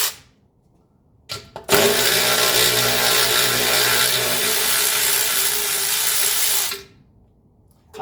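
A power tool whirs loudly and continuously for about five seconds after a brief trigger blip, spinning off 10mm nuts that hold the bushings on a 1980 Mercedes 300SD during maintenance, close and alone.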